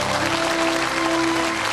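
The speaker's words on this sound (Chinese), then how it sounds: "接下来让我们掌声有请" An audience in a village gathering breaks into loud, sustained applause to welcome a guest onstage, steady and dense throughout with no talking over it.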